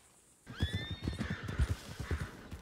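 Red Dead Redemption 2 horse gives a loud whinny, then its hooves clop in a steady rhythm close by, heard alone without talk.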